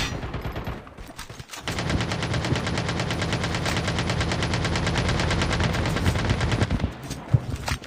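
Sustained automatic gunfire in an online shooter video game, a rapid dense burst of shots running for several seconds, loud and close, with a few scattered single shots afterwards.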